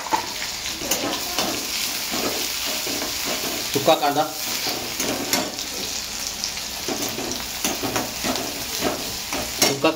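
Onion frying in oil with green chili, garlic and curry leaves for a Mumbai-style egg bhurji, a steady sizzle with clinks of a spatula stirring throughout, and brief voices occasionally over it.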